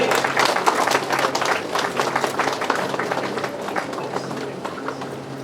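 Sustained audience applause at a felicitation ceremony for an IAS officer, a dense wash of many hands clapping steadily throughout, with a voice speaking over it.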